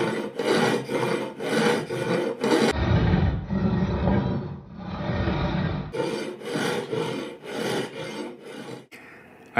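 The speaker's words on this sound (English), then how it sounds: "Now our weapon of choice is going to be a big bastard file." A big steel file and rasp rasp across the blade of a Japanese nakiri vegetable knife being restored, in loud, steady back-and-forth strokes, with a deeper scraping passage midway before the strokes resume.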